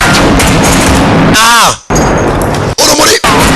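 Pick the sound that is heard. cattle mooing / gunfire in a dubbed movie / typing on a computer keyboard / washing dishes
gunfire in a dubbed movie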